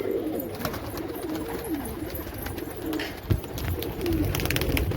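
Pigeons coo repeatedly in soft, rolling calls at a rooftop loft in the evening, heard under a constant outdoor hiss and occasional rustling, with no voices.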